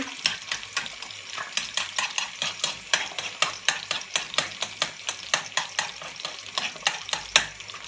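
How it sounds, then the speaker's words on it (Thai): Eggs being beaten for spaghetti, a quick steady run of light clinking strokes against a bowl, close and fairly quiet, with no voices. "ตีไข่ใส่ไข่ด้วย"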